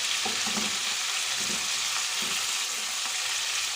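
Garlic chicken wings sizzle in a hot pan with a steady broadband hiss, broken by soft scraping and stirring knocks as the pieces are turned, continuous and close with no talk.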